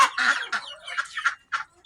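Mixed-breed chickens, including a rooster, cluck and squawk up close in a quick, irregular run of calls with short pauses between them. No voices are heard.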